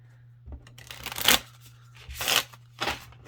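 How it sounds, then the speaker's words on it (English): A new deck of cards riffled close to the microphone in three quick bursts of crisp fluttering, with brief pauses between them and a low steady hum underneath. "I am feeling better about shuffling it."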